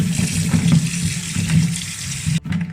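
Running water pours steadily while okra is washed for a Mangalorean curry, a loud, close, continuous gush that cuts off abruptly near the end.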